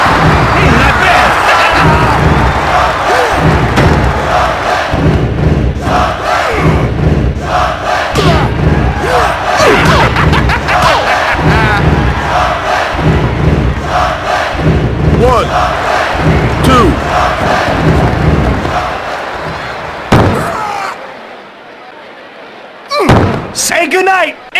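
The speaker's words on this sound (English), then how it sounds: "This crowd has gone bananas. It's so loud I can hardly hear you, Shane." Roaring arena crowd from the WWF Attitude wrestling game on Dreamcast, loud and sustained with rhythmic thumps and slams, an announcer talking over it, then a sudden drop to near quiet before a brief burst returns.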